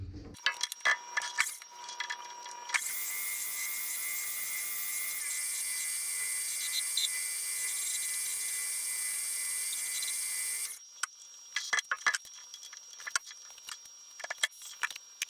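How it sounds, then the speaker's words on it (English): A PM 1440TL metal lathe bores out a hybrid front wheel hub, holding a steady high cutting whine for about eight seconds between scattered clicks and clatter of setup before and after. "We're ready to start boring this out."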